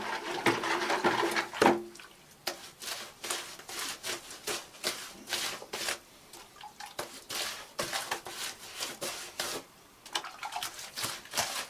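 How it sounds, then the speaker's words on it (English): A bucket of whitewash gets stirred for painting an old farmhouse shed, giving wet, sloshing scrapes in irregular strokes, close and moderately loud, with no speech. "I think I've got to keep stirring"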